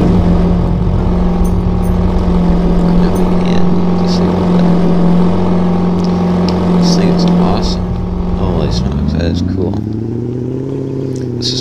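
Engine of a Mercedes 6x6 off-road truck in Roblox Mansion Tycoon, a steady loud drone that shifts pitch and rises near the end, with a voice talking over it.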